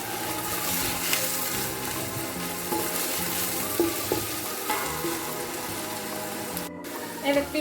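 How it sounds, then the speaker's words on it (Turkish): Food sizzling and frying steadily in a hot pan, close by, with occasional stirring clatter and someone talking over it; vegetables for menemen frying until they change colour, before tomatoes are added. "Şöyle biraz rengini değiştirene kadar iyice kızartıyoruz böyle."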